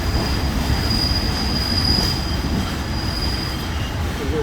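A train from Bangkok's Hua Lamphong station to Hua Hin, Thailand rolls along with a steady, loud rumble of wheels on rails and a thin, sustained high squeal running through most of the ride, with no talking.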